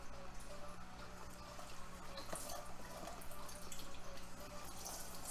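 Tap water runs steadily while fabric dye is rinsed off, a faint, even splashing hiss with no break.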